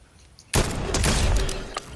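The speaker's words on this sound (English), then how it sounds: "those motherfuckers over there are shooting by you" After a quiet start, loud gunfire in a shooter video game breaks out abruptly and continues as a dense, rattling barrage for the rest of the moment.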